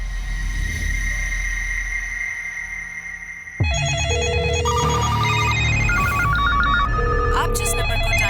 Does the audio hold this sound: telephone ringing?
yes